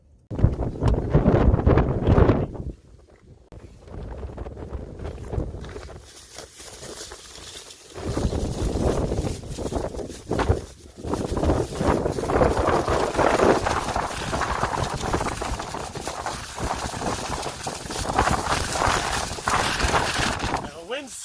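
Strong wind blows outdoors during a food delivery stop at a Hardee's in Murfreesboro, buffeting the microphone in loud rumbling gusts that briefly drop away, with a voice talking at times.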